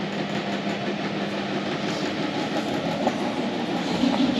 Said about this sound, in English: A cool old train.